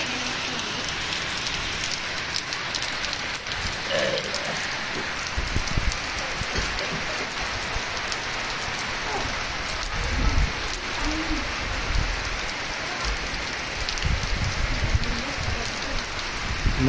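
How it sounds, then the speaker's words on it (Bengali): Heavy rain pours down in a steady, dense hiss of drops striking surfaces, loud and unbroken throughout, with occasional heavier splashes and no voices. "প্রচণ্ড বৃষ্টি হচ্ছে।"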